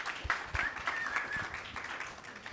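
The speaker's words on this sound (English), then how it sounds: "Round of applause, maybe?" Audience applause fills a conference hall at a finance summit in Cannes, a moderate wash of clapping with a few sharper claps and a faint tone running through it.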